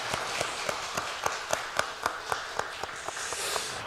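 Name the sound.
congregation applause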